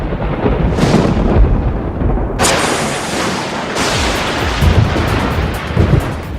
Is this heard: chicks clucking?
no